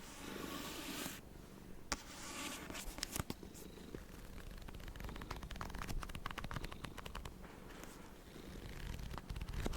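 A cat purrs softly and continuously, a low rhythmic rumble close to the ear, with occasional small rustles and clicks.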